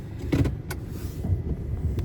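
A car sits idling in a fast-food drive-through lane, its low engine rumble steady and close, with a couple of brief mechanical whirs and clicks from inside the vehicle.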